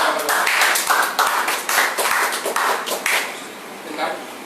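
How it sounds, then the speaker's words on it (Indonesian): An audience at a panel discussion claps together in a dense, steady burst that slowly thins out, with voices mixed in. "Tepuk tangan, tepuk tangan."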